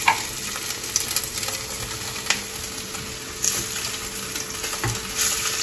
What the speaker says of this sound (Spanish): vamos a pasarlos a la plancha